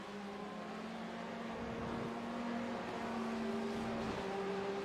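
Black BMW and black Porsche race cars driving on a circuit, a steady engine drone with a sustained tone shifting in pitch, continuous and moderately loud throughout.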